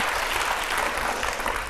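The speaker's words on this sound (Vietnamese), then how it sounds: "Một tràng pháo tay cho nhà trai nha." Studio audience on a Vietnamese TV show applauds steadily, dense and even, with a continuous wash of claps that holds without a break.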